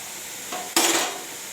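Washed cabbage and its leaves tip into a hot pan, a short clatter followed by a sudden bright burst of sizzling that gradually eases off, close and without talk.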